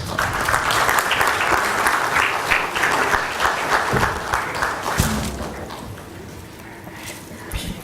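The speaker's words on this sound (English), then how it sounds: "A round of applause." Sustained applause from a large audience at a conference marking a bouquet presentation to India's Minister of Railways, loud and dense throughout, easing slightly toward the end.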